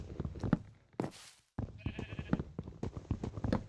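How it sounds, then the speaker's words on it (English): Sheep in the Minecraft video game bleat repeatedly in wavering cries, fairly close, with a short hissing burst and a gap partway through. "I hear sheep."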